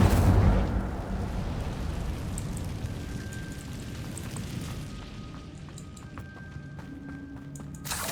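Casting the Incendio fire spell in a wizarding video game sets off a heavy whooshing boom that opens loudly, then settles into a crackling, rumbling burn that slowly fades, with a faint tonal shimmer and soft thuds near the end.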